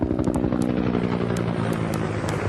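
Helicopter in a video game flying toward a mountain, a steady loud engine drone with rotor-like harmonic throb filling the whole stretch, interrupted by a few short sharp high clicks.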